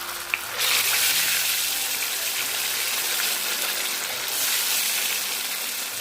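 Banana kabab pieces dropped one at a time into hot oil set up a loud, steady sizzle and bubbling that fills the whole stretch, with a small tap near the start and no talking.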